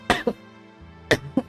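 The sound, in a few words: cough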